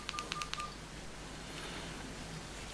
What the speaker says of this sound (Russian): мы нажимаем долго клавишу. И удерживаем его, все, и звоню Васе